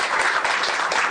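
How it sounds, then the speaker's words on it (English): Brief burst of audience applause at a live-streamed mental health community event, a dense patter of clapping from a crowd. "you can give her a round of applause."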